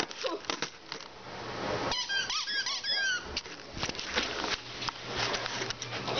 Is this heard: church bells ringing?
no